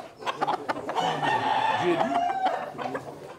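A rooster crows loudly and close by at a cockfighting pit during the weigh-in, one long drawn-out call amid clucking and general crowd noise.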